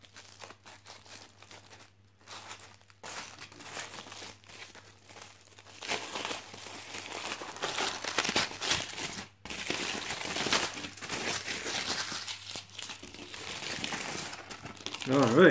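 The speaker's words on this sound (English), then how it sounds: "Just going to grab it here and take it out of the aluminium foil." Aluminium foil being unwrapped from food, close crinkling and crackling that starts sparse with brief pauses, then grows louder and denser toward the end, with a voice speaking at times.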